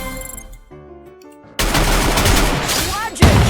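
A shooting video game delivers a headshot: loud, rapid gunfire bursts abruptly after a quieter stretch of game sounds, continuing densely to the end with a sharp final impact.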